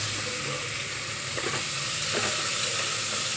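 Spices sizzling in hot oil as a tempering for pulao, a steady close frying hiss with a few soft clinks of stirring and no voices.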